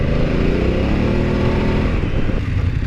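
A 2024 BMW F900GS motorcycle riding on the road, its engine droning steadily and loudly up close, with a slight rise in pitch as it pulls ahead.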